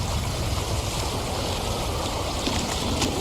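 Rushing water from a very large waterfall in the video game Wuthering Waves, a steady dense roar of spray that continues unbroken and fairly loud throughout.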